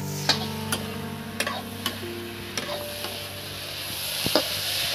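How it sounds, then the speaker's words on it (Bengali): Fried brinjal (eggplant) slid into a hot pan for an egg-and-brinjal dish, giving a steady close sizzle with a few sharp clinks of a utensil against the pan scattered through. "এবার বেগুনগুলো ঢেলে দাও এর মধ্যে"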